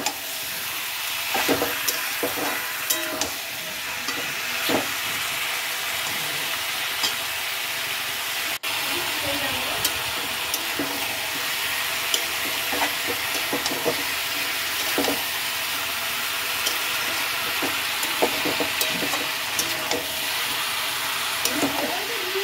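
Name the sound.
marinated chicken frying in a pan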